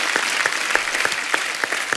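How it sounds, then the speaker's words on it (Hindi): Studio audience applause on The Kapil Sharma Show, a loud, dense wash of clapping with regular sharp accents, filling the moment without speech. "उसके लिए जोरदार तालियां थी"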